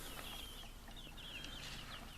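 Roosters cluck and chatter in short repeated calls, fairly faint, over a steady background hum, from five roosters in one pen.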